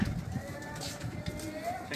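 Pigeons coo softly in a loft of breeder birds in Nawabshah, heard faintly and low alongside a nearby voice and background murmur.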